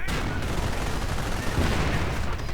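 A wargame battle with Panzer IV tanks and grenadiers firing on riflemen: dense, continuous rattling gunfire and heavy booms blend into a loud unbroken din throughout, without any talking.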